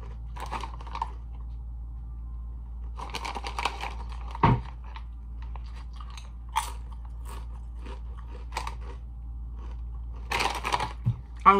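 Crisp crunching from eating Two Farmers Herefordshire sausage and mustard crisps comes in scattered close bursts, with sharp bites between quiet pauses.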